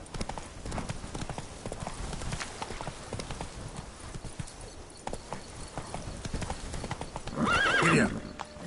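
Roach, the horse in The Witcher 3: Blood and Wine, gallops with a steady clip-clop of hooves throughout, then gives a loud, close whinny near the end.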